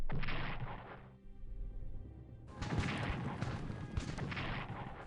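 Artillery fire in the Strategic Command American Civil War strategy game, dense booming volleys that roll loudly and continuously, pausing briefly before a second heavy barrage.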